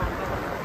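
Heavy rain pours onto a rice field during transplanting, a brief dense, steady hiss close by with no other sound standing out.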